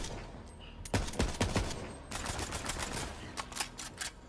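Rapid bursts of gunfire from Moze in Borderlands 3, with sharp clustered shots followed by sustained rattling fire, all beneath steady game background noise.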